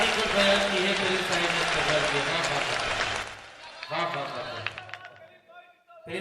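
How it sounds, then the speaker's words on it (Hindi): An audience at a mushaira poetry gathering in Haldwani claps in a dense burst that goes on for about three seconds, then breaks up into scattered claps and murmurs. Before the claps stop, a speaker's voice rises over them. "तालियां कमजोर है"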